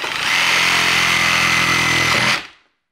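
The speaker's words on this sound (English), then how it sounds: "You've cut the 1 nail with the sawzall" Reciprocating saw (sawzall) cutting through a nail, a loud steady whining buzz from close by that runs for about two and a half seconds and then stops abruptly.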